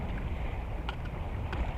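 Strong wind blows at a waterside fishing spot during light-tackle LRF fishing in windy, current-swept conditions, a steady roaring rush across the microphone with a few faint clicks and no voices.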